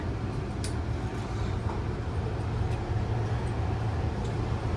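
Steady, loud rumble inside a moving UP Express train running to Pearson Airport Terminal 1, a continuous low roar of wheels and carriage with faint brief ticks on top.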